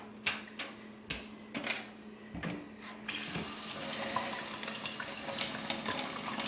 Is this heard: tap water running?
yes